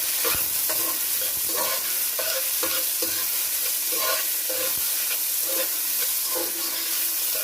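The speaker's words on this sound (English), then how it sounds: "you're just gonna leave this to saute for a little while" Food sautés in a pan seasoned with geera powder, giving a loud, continuous sizzle with a run of spatula scrapes and stirring knocks all the way through.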